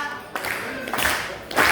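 An audience claps along in time at a Galician Letters Day singing performance: three sharp group claps at an even beat, close and fairly loud, with a faint voice between them.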